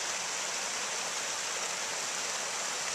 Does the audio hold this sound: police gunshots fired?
no